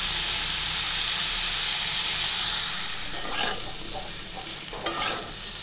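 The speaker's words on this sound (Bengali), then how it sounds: "পেঁপে আর সোয়াবিন দিয়ে এটি কষিয়ে নিলাম" Potato, papaya and soybean stir-fried in a pan make a continuous hissing sizzle, with a few scraping stirs and one sharp clatter near the end; no one talks.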